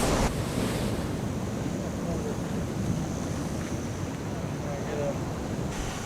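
Ocean surf washes steadily onto Red Rock Beach near Agnes Water, a constant broadband roar mixed with wind buffeting the microphone, with no distinct breaks between waves.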